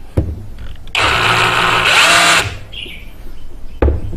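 An OSUKA OSRH-26 cordless brushless SDS rotary hammer drill is switched on with a click and whirs loudly and steadily for about a second and a half, then winds down, followed by another click.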